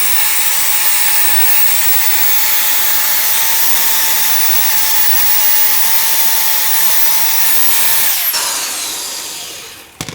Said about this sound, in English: I use this tool right here to clean this rust off.